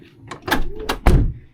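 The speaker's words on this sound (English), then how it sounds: "Automatic doors and a trunk." The automatic sliding door of a Dodge Grand Caravan gives a short mechanical whir and slide, ending in a firm thud as it latches, close and brief.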